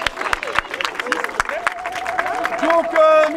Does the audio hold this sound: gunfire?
no